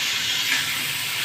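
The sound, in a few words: sautéing taro stalks in a pan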